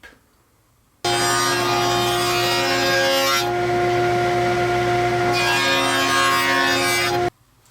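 A table saw cuts a 13/16-inch-wide dado along a wooden board, about a quarter inch deep, starting abruptly with a steady loud whine and cutting roar that changes pitch midway, then stops sharply after about six seconds.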